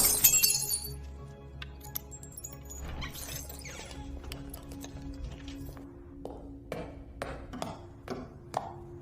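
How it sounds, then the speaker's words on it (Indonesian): A glass window pane beside a house door handle is smashed, a sharp shattering crash followed by scattered tinkling shards and several fainter clinks and knocks of glass pieces falling over the next seconds, close and fairly loud. "bergegas memecahkan kaca di dekat handle pintu rumah agar bisa masuk"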